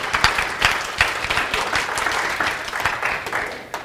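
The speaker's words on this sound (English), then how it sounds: "just give him a round of applause" A small audience gives a round of applause at a sales training session, with distinct close claps in an uneven rhythm and no talk over them.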